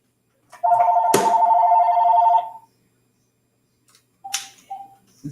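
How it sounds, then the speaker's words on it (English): A telephone rings during a talk show, one long loud electronic ring followed by a pause and then two shorter rings, with no talk over it. "I have two phones and one of them's ringing here"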